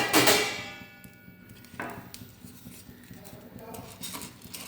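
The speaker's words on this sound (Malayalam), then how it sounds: "ഇനി ഇളക്കി കൊടുത്തുകൊണ്ടിരിക്കണം." Raw rice stirred and roasted in a very hot pan, scraping and clinking of grains and utensil against metal in irregular strokes, with a voice speaking over it.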